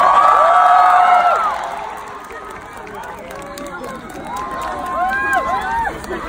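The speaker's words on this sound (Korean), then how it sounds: "여러분들 들으시다시피 여러분들 함성 소리의 폭발력 정말 대단합니다" A large outdoor concert crowd cheers and shouts for the singer, a roaring wash of screams and whoops that swells loud, dips, then rises again with many high voices.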